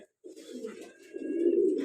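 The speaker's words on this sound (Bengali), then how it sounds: "আর একটা পেয়ার লাহোরি কবুতর একটা দেখতে পাচ্ছেন" Low, throaty cooing of a pair of Lahori pigeons close by, a soft rolling call that grows louder and fuller after a brief pause.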